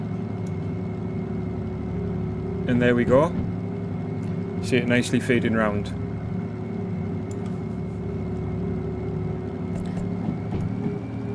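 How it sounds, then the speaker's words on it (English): A diesel locomotive engine in Derail Valley drones steadily and powers up, a low constant hum with a rising tone near the end, while someone talks briefly over it. "I'm going to close this window now as we start to hear the engine pick up"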